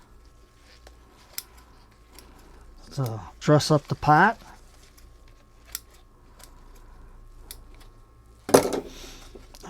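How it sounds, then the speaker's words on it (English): Scissors snip a few times, sharp crisp cuts trimming moss from the sides of a myrtle bonsai, among brief handling noises, with a person talking quietly in between. "I'll take my scissors and cut off the moss that's hanging on the sides"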